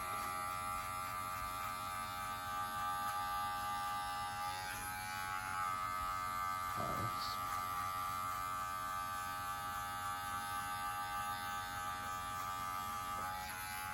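Steady electric clipper buzz runs throughout, close and constant, with a faint mains-like hum underneath and no talking.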